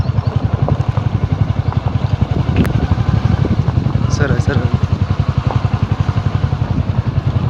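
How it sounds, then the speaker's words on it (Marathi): A motorcycle engine chugs steadily with rapid even pulses as the bike rides along a narrow footpath, close and loud, with a brief spoken word and some clatter over it. "पाय वाट आहे त्याच्यातनं बाईक काढलेली आहे आम्ही आता"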